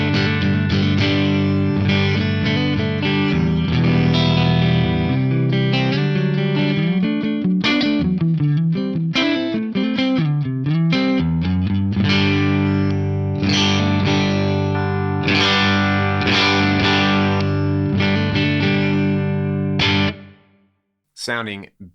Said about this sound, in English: I've got a PRS DGT plugged straight into the Axe FX3.